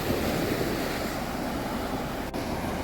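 Sea waves washing onto Devbag beach in Malvan, Sindhudurg, a steady surf wash with some wind buffeting the microphone, no voices heard.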